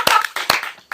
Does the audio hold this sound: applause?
yes